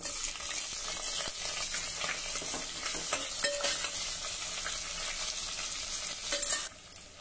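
Cashews and chopped onion go into roasted dried coconut in a hot pan, giving a close, steady sizzle with stirring scrapes and occasional clinks, cut short at the end.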